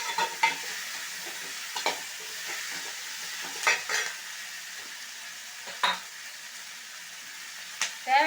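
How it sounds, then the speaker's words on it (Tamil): Vegetables for Tamil Nadu-style sambar sautéing in hot oil give a steady close sizzle, broken by intermittent scraping clicks as a spoon stirs them around the pan. "எல்லா காயும் ஒன்றை மாதிரி வதக்கிக்கணும் நல்லா"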